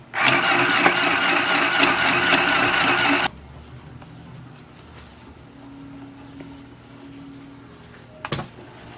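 A small sewing machine stitching fabric, running with a loud, even motor whir for about three seconds before stopping abruptly, followed by quiet room noise and a brief clunk near the end.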